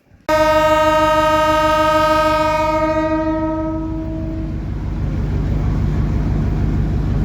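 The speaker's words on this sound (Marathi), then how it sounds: "ती ट्रेन म्हणजेच मिरज कुरुडवाडी डेमो जी आहे ती आता पंढरपूरच्या प्लॅटफॉर्म नंबर तीनवर येत आहे" A Miraj–Kurduwadi DEMU train pulls into platform three at Pandharpur, opening with a loud sustained horn that fades after a few seconds into a steady, close rumble of the moving carriages.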